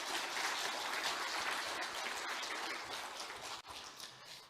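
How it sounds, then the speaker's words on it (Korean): A church congregation at a special dawn prayer service claps together in dense, steady applause that stays loud and close for about four seconds, with a brief dip near the end and no voices over it. "자, 우리 박수 한번 하겠습니다."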